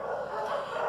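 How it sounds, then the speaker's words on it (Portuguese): The neighbour's dogs bark in a muffled, somewhat distant burst, a quick run of yaps blurred together over a steady background hum. "esses cachorros nem são os meus"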